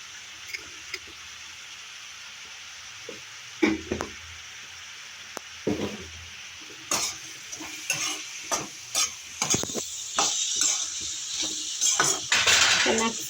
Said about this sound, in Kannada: ಮೊಟ್ಟೆಗಳನ್ನ ಒಂದು ಬಟ್ಲಲ್ಲಿ ಹೊಡೆದು ಇಟ್ಕೋತಾ ಇದ್ದೀನಿ